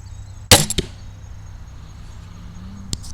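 Sharp, loud snap of a Barnett Blackcat crossbow firing an arrow at a target 20 yards away, with a quick follow-up rattle, then quiet outdoor background and a softer distant thud of impact near the end.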